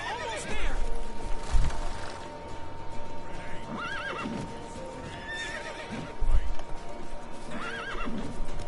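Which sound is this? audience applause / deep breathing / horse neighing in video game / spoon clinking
horse neighing in video game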